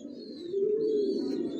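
Racing pigeons kept for long-distance races coo in a low, steady, continuous murmur that swells slightly midway, close and moderately loud, with faint higher chirps above.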